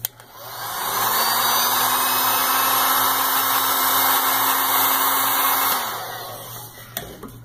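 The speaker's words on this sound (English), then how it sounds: "But you could also use a hairdryer" A hair dryer, used to shrink heat-shrink tubing, switches on and runs loudly on high with a steady whir and rushing air for several seconds, then winds down to a stop.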